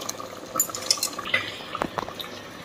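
Drained sardines are added to a simmering coconut milk fish curry, giving soft wet plops, splashes and liquid slurping in a close, fairly quiet series of irregular bursts, with no voices.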